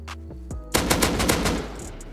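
AK rifle fire in the video game Rust, several close, sharp shots at first and then a rapid automatic burst that fades out, with no talking.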